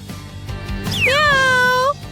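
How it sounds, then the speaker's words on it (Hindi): A single drawn-out cat meow rises and then holds steady for about a second, loud and close over faint background noise. "ये एक बिल्ली है।"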